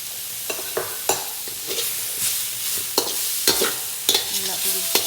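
Garlic frying in a hot pan for Vietnamese shaking beef, a steady close sizzle broken by repeated clanks and scrapes of stirring, with no talk.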